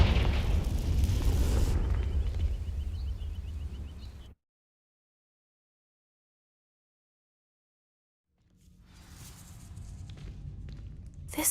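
A Confringo fire spell in a Harry Potter video game sets dry vines alight with a loud roaring burst that fades out. After several seconds of silence, a crackling roar rises again.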